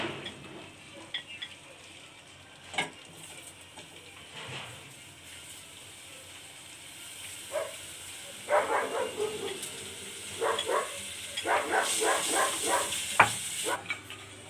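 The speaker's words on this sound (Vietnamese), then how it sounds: "Mình đun cái nồi nước dùng này lên để tí nữa mình đổ vào nồi lẩu" Seafood hot pot broth heats in a pot, giving soft bubbling and sizzling that turns into louder clustered bursts toward the end.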